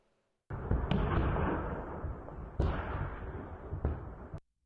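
Heavy bursts of crackling, rumbling fire sound from a distance as phosphorus munitions fall on Bakhmut at night, with several sharp pops over a sustained roar before it cuts off.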